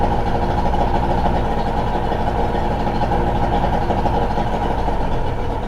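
An outboard boat motor fitted with cheap aftermarket electronics idles steadily, a continuous low rumbling drone with no change in pace, close and alone.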